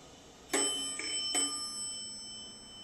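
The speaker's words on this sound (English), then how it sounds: "There's the bell." Two bright electronic chimes from an Atlas hydraulic elevator's arrival bell ring out close by over a low hum, each tone sustaining briefly before fading into quiet.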